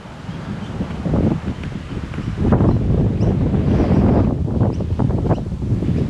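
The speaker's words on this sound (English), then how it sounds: "it's usually been windy around the reserve there" Wind gusts through the trees at a riverside reserve in Murray Bridge, South Australia, a loud, rough rumble that buffets the microphone and swells and eases continuously.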